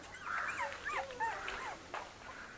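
Pitbull mother dog or puppies whimpering, a string of close, high, wavering whines and yips, fairly faint and continuous for a couple of seconds.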